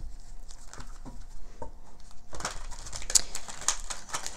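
Tarot cards being shuffled by hand, a few soft riffling taps at first and then a denser, louder run of crisp flicking and papery patter, close and with no voices.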